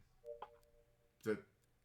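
Phone dialing tones in the video game Emio - The Smiling Man, a short steady tone followed by a brief louder burst of beeps, quiet and close.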